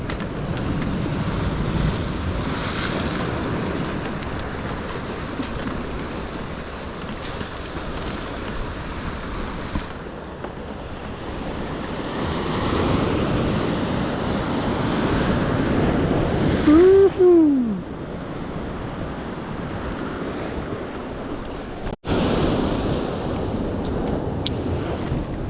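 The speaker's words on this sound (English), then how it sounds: "all these waves against the rocks" Ocean waves crash steadily against the rocks at a pier near Palos Verdes and Redondo Beach, a continuous loud wash of surf and splashing mixed with heavy wind buffeting the microphone, with a brief squeaky tonal sound partway through.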